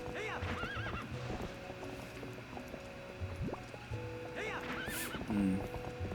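A horse in Zelda: Twilight Princess gallops with fast, steady clip-clopping hooves, and it gives two shrill neighs, one near the start and one near the end, over soft game music.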